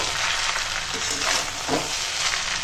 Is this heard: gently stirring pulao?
yes